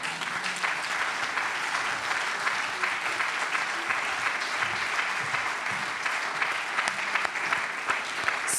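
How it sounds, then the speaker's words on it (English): Audience applause at an awards ceremony, a steady dense wash of many hands clapping for several seconds, no distinct voices above it. "So a final round of applause for y'all."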